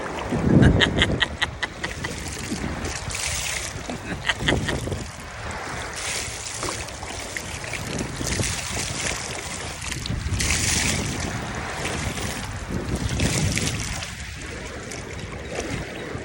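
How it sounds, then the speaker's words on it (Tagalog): Large waves rolling and crashing against a steady roar of wind buffeting the microphone, loud and continuous, with surges of surf every few seconds. "Malaki talaga yung alon"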